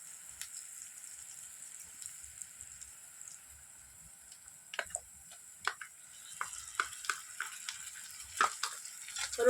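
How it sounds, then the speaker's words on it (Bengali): Garlic paste frying with chopped onions in mustard oil, a steady soft sizzle with scattered sharp crackles and stirring clicks that grow busier toward the end, close and alone with no talk. "রসুনটাকে ভালোভাবে ভেজে নেব পেঁয়াজের সঙ্গে।"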